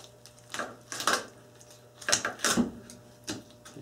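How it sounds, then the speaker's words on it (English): A knife cuts along the backbone of a raw chicken on a board: a few close scraping, crunching strokes with faint knocks, separated by brief pauses, with no talking. "I'm going to put my knife inside here and cut it this way on both sides"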